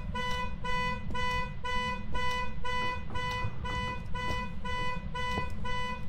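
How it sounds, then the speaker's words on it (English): A car alarm honks in the game Phasma, a loud, steady run of about eleven evenly spaced tonal blasts repeating without pause, with no voices over it. "What is that honking noise?"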